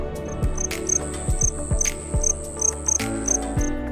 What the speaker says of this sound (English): Crickets have a high-pitched chirp.